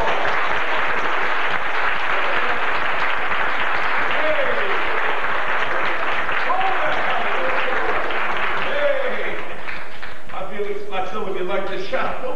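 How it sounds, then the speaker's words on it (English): A church congregation claps together during a worship service, a dense steady wash of hands that holds for several seconds, with voices calling out over it toward the end. "Oh, give him a clap"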